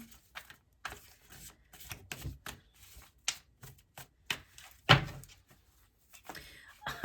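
Cards are shuffled in quick irregular bursts of soft slaps and riffles, with occasional thumps and a few quiet pauses.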